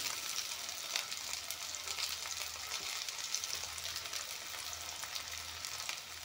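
A pan sizzles softly after chili powder goes in, a faint, even frying hiss with light scattered crackles, steady and fairly distant, with no talking.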